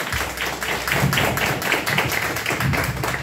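Audience applause for Benito at a mariachi birthday party, a steady patter of many hands clapping throughout at a moderate distance.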